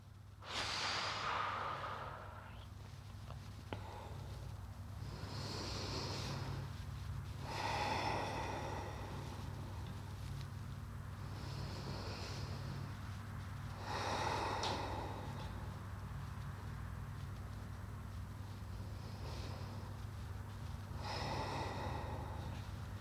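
Slow, deep breaths in and out during a legs-up-the-wall stretching and mobility cool-down, each long inhale and exhale spaced several seconds apart, soft and close over a low steady background hum.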